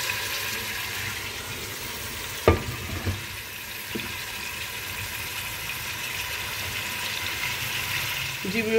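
Yogurt-marinated meat for yakhni pulao is stirred into oil in a pot, making a low, continuous wet churning and sizzle with a few distinct knocks against the pot.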